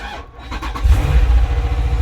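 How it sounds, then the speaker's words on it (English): A Dodge SRT Grand Cherokee engine cranks briefly and fires up at an auto auction, settling into a loud, deep, rumbling idle with a pulsing low-end throb, close up and without talk. "Oh yeah, fires right up, so I know the engine's good."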